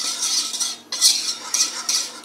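A whisk scraping and stirring in a pan, used for a cauliflower and carrot gratin, makes bright metallic swishes in several rhythmic bursts, close and fairly loud, with no talking.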